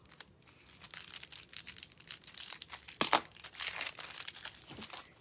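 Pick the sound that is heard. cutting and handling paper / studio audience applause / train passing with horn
cutting and handling paper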